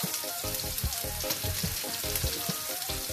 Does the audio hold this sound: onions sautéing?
yes